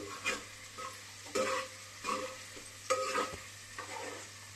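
Chopped onions are stir-fried in a pan for a chicken dish: about five separate stirring strokes of scraping and rustling over a soft, steady sizzle, close by, with no voices.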